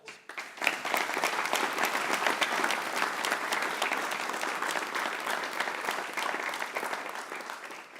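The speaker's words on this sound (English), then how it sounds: "So he certainly deserves a round of applause." An audience at a museum education center grand opening gives a round of applause, sustained dense clapping from a large crowd that starts abruptly, holds steady, then slowly tapers.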